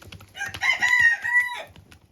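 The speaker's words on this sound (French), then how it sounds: "je vais vous montrer à quel point les poules en raffolent" Hens on a poultry farm clucking and squawking excitedly over a treat of flour, a loud, close, continuous burst of overlapping calls lasting over a second before trailing off.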